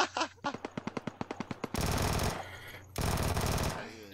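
Gunfire in the battle royale game PUBG during a team deathmatch: a rapid string of sharp single shots, then two long bursts of sustained automatic fire, loud and close, with no talk over it.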